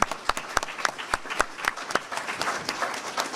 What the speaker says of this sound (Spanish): un aplauso al maestro en ese concepto